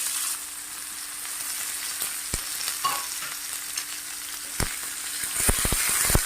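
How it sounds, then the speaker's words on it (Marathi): Tomato, onion and cashews sauté in a pan for a green pea masala, giving a steady close sizzle with occasional sharp spoon knocks against the pan, clustering toward the end. "आता हे यामध्ये टाकून मऊ होईपर्यंत छान परतून घ्यायचे"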